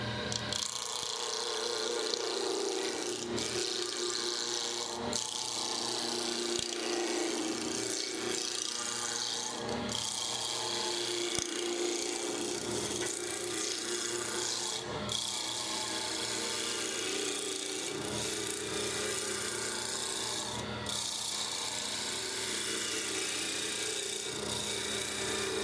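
Woodturning gouge cutting a square spindle round on a lathe running around 1800 RPM, a continuous scraping, rasping cut with periodic sharp ticks, steady and moderately quiet with no talking.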